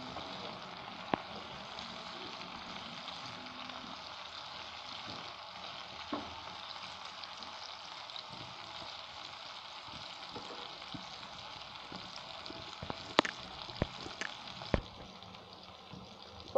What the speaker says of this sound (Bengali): পটল হালকা ভাজা হয়ে আসলে একটু নেড়ে চেড়ে দেব।